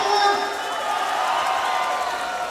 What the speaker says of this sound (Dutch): Geer een groot applaus voor de voorzitter van die club